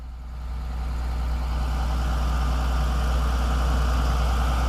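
A 2002 International Hi-Ranger XT60/70 elevator forestry bucket truck idles with a steady low diesel rumble and hydraulic hum while its boom rotates, holding constant and close with no talk.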